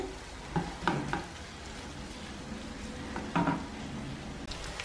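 Shrimp filling for briouats sautés in a pan, a soft steady sizzle close by with a few scattered scrapes and knocks of a stirring utensil against the pan, fairly quiet overall.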